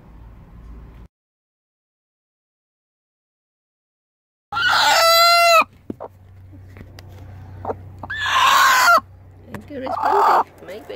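Backyard Araucana chickens clucking and calling loudly at close range in short bursts, with a long quiet gap near the start and further clucks and squawks following.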